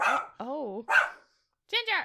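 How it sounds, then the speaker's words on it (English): A pet dog barks indoors at other dogs outside, giving a few short yipping barks with pauses between them, close to the listener, while a voice speaks briefly. "Why are you barking?"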